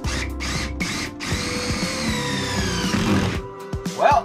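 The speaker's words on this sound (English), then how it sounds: "yep, drilling the hole" A power drill whirs in several bursts, stopping and restarting, then grinds steadily as it bores a hole through a ceiling for a stove flue pipe, close and loud.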